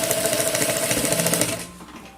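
A sewing machine runs steadily, stitching bias binding onto denim, a continuous close mechanical whir with rapid needle rhythm that stops near the end, leaving quieter room sound.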